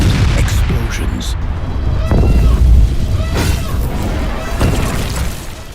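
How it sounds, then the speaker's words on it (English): Distant explosions rumble and echo through the Death Star, a series of low booming thuds and crashes rolling under continuous dense noise, moderately loud throughout. "The Death Star trembled with the echo of distant explosions."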